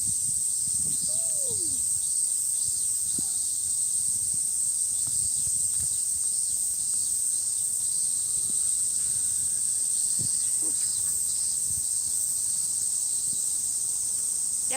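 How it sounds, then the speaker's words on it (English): Cicadas in a Tokyo park in summer buzz loudly and steadily, a continuous high drone that fills the whole stretch. Faint rustles and a few distant bird calls sit underneath. "No, that's just the cicadas."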